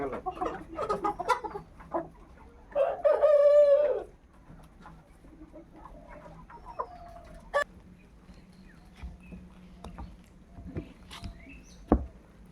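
At a chicken farm, hens cluck in scattered bursts while one loud drawn-out squawk or crow rises briefly, then the flock settles into quieter intermittent calls.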